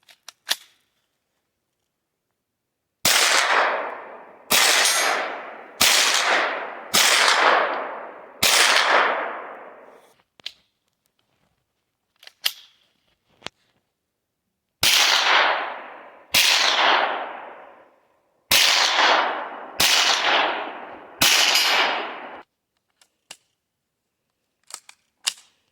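A KelTec Sub2000 9mm carbine fires about a dozen loud, sharp single shots outdoors, spaced roughly a second or two apart in two bursts with a pause between, each crack followed by a short decaying echo.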